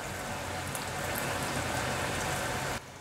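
Potatoes and pumpkin frying in plenty of hot oil in a wok, a dense, steady crackling sizzle that holds evenly near the pan before cutting off abruptly just before the end, with no voices.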